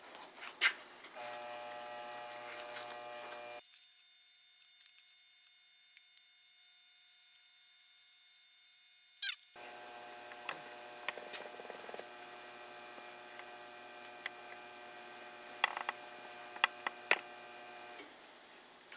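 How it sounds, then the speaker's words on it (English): A lightened, clearanced 13B turbo rotary engine rotor spins on a balancing machine, giving a steady mechanical whirr with a tonal hum that stops briefly midway, then resumes with scattered ticks and clicks. "we're going to spin rotor number 2 now"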